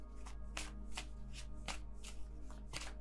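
Tarot cards being shuffled by hand, a quick series of about eight crisp riffling bursts in steady rhythm, close but soft, over a low electrical hum with no talking.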